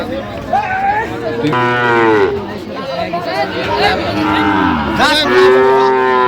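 Sahiwal bull mooing at a cattle market, with long drawn-out moos repeating close by over a constant murmur of crowd chatter and talking.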